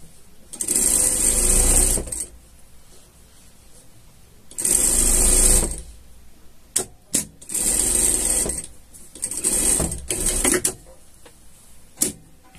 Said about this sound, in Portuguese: Costura de segurança aqui embaixo.